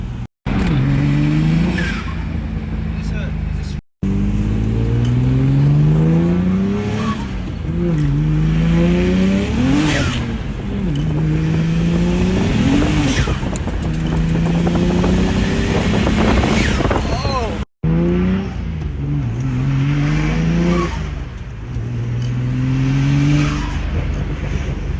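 A turbocharged BMW 135i accelerating hard through the gears, with rising engine pitch sweeps that drop at each shift, turbo whoosh and wind noise, loud and close from inside the car, with brief cuts between pulls.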